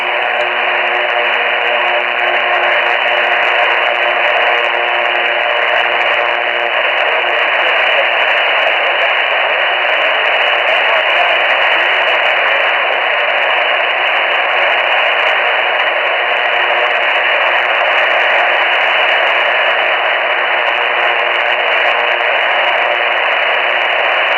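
Shortwave radio receiver on a Windom antenna, tuned downward from 1700 kHz, giving a loud, steady wash of hiss and static with faint tonal traces throughout and no clear voices.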